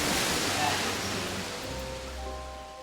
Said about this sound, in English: Sorry, I couldn't hear you over the water.